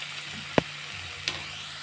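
Banana stem stir-fry being stirred in a pan, a faint steady sizzle broken by two distinct scraping clacks of the spoon against the pan, close and otherwise quiet.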